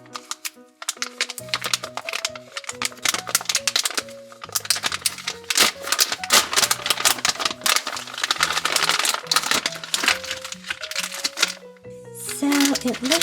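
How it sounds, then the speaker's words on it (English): A plastic bag from a chocolate candy kit is opened, giving a busy run of crinkling, crackling rustles and snaps close by, with a voice in the background. "So let's open this up and see what comes out of the bag."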